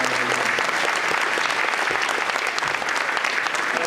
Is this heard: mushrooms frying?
no